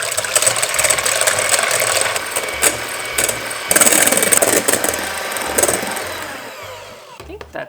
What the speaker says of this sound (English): Then we need to whisk this up until stiff peaks form so it can hold its own shape.